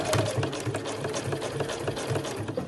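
A sewing machine runs steadily through a backpack's pocket and flap panels, a close, continuous rhythmic stitching rattle with no pauses.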